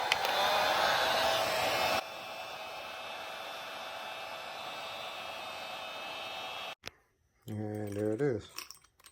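A heat gun heats a sleeve over a pin on a Taylor RC Vesla rear end and transmission, producing a loud, steady airy roar. The roar drops to a lower level after two seconds, then cuts off, and a voice speaks briefly at the end.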